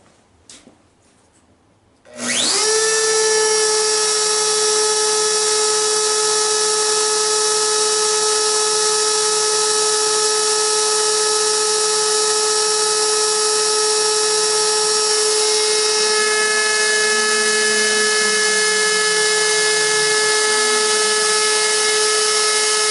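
A Shapeoko 3 CNC router spindle spins up abruptly after a quiet start, settling into a loud, steady high-pitched whine with stable harmonic tones that holds for the rest of the clip.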